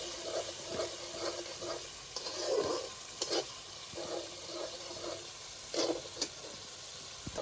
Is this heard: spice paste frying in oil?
yes